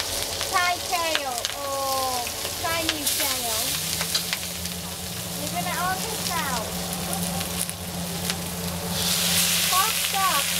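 Thai kale sizzling in hot oil with a continuous crackling hiss, while people talk over it throughout.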